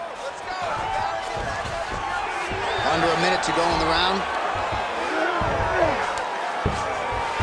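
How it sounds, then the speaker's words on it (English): A virtual arena crowd in EA Sports UFC 5 roars in a steady, distant swell during a fight between Sodiq Yusuff and Raphael Assuncao, running beneath continuous commentary. "So the crowd absolutely loving it as these fighters work their way back to the feet."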